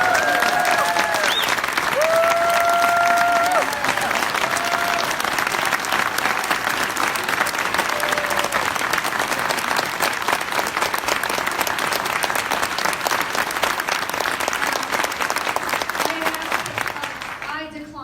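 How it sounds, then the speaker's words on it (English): Sustained applause from a crowd at a Democratic candidate forum, steady clapping filling the whole stretch, with a few voices calling out before it tapers at the end. "can you just please have another round of applause for our"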